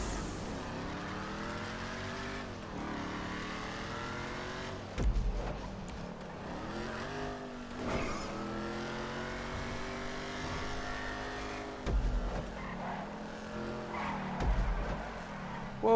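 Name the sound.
car driving and skidding around curves in a PS4 racing game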